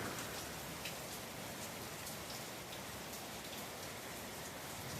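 A downpour on the south side of Marion, Ohio keeps up an even, full roar of rain hitting surfaces nearby, unbroken and free of talk.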